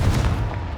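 A single booming burst from the Confringo explosive spell in Hogwarts Legacy, loud and brief with a rumbling tail.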